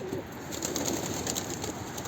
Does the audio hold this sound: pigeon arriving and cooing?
yes